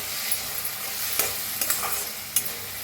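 Spice masala with turmeric, coriander powder and red chilli powder roasts in oil in a pan, an even sizzle broken by quick spatula scrapes and a few crisp taps against the pan.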